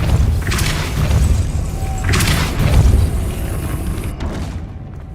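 Heavy booming force blasts from the Depulso spell in Hogwarts Legacy, three or four loud thudding bursts spaced about a second apart, each with a rumbling low tail, ending in a sudden cutoff.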